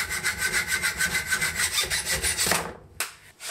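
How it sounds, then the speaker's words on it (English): A too-long screw is cut off with a hand saw, giving a close, rapid series of rhythmic rasping strokes that stop abruptly after about three seconds. "I found a screw which is perfect, but it's too long, so I have to cut it off."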